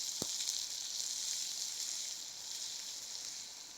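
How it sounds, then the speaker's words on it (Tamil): Orange peel and turmeric powder frying in cooking oil give off a steady, fairly faint sizzle that holds evenly from start to finish, with one brief sharp tick near the beginning. "இந்த எண்ணெயிலே வந்து ஆரஞ்சு தோல் கொஞ்சம் வதங்கணும்"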